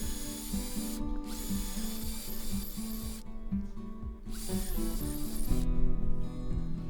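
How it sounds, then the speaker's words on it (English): A drill bores screw holes into pallet wood for a vintage-style key hook, a busy grinding whir with repeated rhythmic pulses, broken by short pauses and restarts. "you can see there I'm drilling the 2 holes at the end, which are for the screws"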